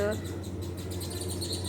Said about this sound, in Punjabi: ਬੱਚੇ ਮੁਨੀਆਂ ਨੇ ਆਵਾਜ਼ਾਂ ਆ ਰਹੀਆਂ ਤੁਸੀਂ ਵੀ ਸੁਣ ਰਹੇ ਹੋ